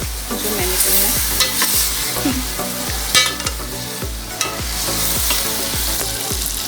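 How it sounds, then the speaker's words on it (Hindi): Chicken fries with ginger and garlic paste in a karahi, giving a steady close sizzle broken by repeated stirring scrapes of a spoon against the pan. "अदरक और लहसुन के साथ चिकन अच्छी तरह फ्राई हो गई है"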